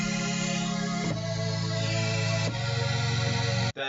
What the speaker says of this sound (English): started with this 8-bit pad